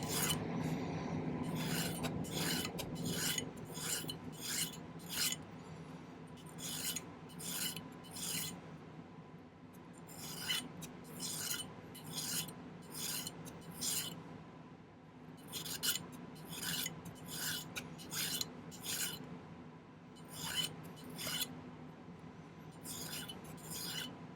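A hand file rasps across a work-hardened metal pendant piece in repeated, evenly spaced strokes, each a sharp scraping burst, close and clear with short pauses between.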